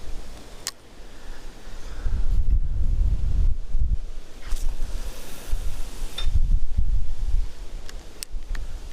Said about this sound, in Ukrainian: Да, просто нестерпний вітер.